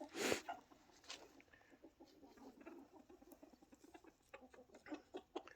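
Chickens cluck and squawk in short bursts, with a loud rooster call at the start and scattered fowl noises around a farmyard.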